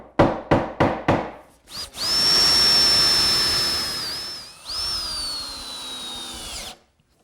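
A few sharp taps, then a power drill driving screws into a wooden corner hutch in two long whirring runs, the second pitched up as it tightens, close and loud with no talking.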